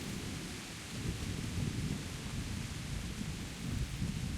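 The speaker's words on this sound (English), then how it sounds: "maybe the thunder or the lightning can help me see out of these battlements" Low, rolling thunder rumbles beneath a steady hiss of rain in the video game Kingdom Come: Deliverance, distant and moody, with no voices.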